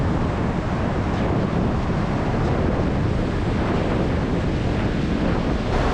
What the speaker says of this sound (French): Les vagues nous viennent des deux côtés.